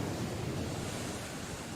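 Atlantic Ocean waves lapping the shore at the southern tip of an archipelago: a steady broadband wash of surf with wind rumble, continuous and fairly distant, with no voices.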